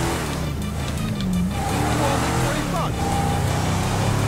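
A big motorcycle engine in GTA V hums and revs steadily throughout, with voices talking over it.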